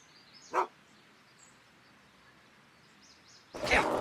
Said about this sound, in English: Go away, dog.